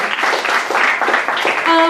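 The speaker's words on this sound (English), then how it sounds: "yeah, we can clap for that" An audience at a comedy show applauding, a dense burst of clapping for about two seconds, loud and close, ending as a tone sounds.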